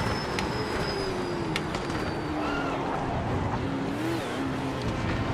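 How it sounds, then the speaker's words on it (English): A racing car engine in a racing video game revs and drops through braking zones, with a loud continuous whine shifting pitch and gear changes under steady mechanical noise. "Now that I'm listening to the car in the braking zones, I can hear the engine now, the rev range."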